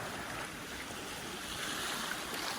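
Sea waves washing onto a black lava-rock beach, a steady broadband wash of surf with wind noise, continuous and fairly close, with no voices.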